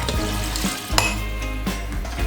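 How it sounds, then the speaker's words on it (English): A spoon stirs a pot of ham soup with water, giving soft scraping and sloshing strokes in a steady rhythm over a continuous bubbling sizzle, close and moderately loud. "Stir this up just to distribute everything somewhat evenly."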